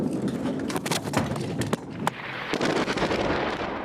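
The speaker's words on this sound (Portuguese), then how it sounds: "A apresentadora estava ao vivo quando aconteceu a explosão." An Israeli strike explodes at the Ministry of Defense building in central Damascus during a live news broadcast, with sharp cracking bursts and debris-like crackle followed by a broad rumbling roar.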